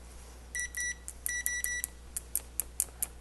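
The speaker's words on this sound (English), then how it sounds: "About continuity, how's the buzzer sound?" The continuity buzzer of a Victor 921 pocket multimeter, a series of short, sharp electronic beeps in an irregular run, some held briefly and others quick chirps, close and clear over a quiet background.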